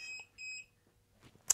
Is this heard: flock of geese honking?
no